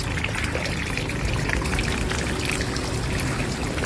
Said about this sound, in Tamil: நான் தண்ணி ஊற்றதும்